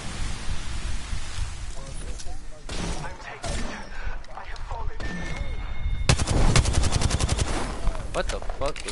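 Video game gunfire with heavy recoil rattles in repeated bursts, growing into a dense, loud volley toward the end, set against game ambience and occasional player voices.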